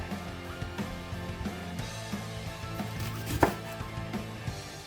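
A knife slicing guacamole ingredients, onion among them, into thin slices on a board, with a run of quick, fairly soft chopping taps in an uneven rhythm and one sharper knock near the end, no voices.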